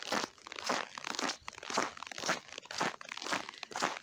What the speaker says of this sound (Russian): Ой, как хорошо хрустит снег под ногами.